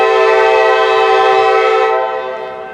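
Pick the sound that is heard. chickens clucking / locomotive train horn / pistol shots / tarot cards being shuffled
locomotive train horn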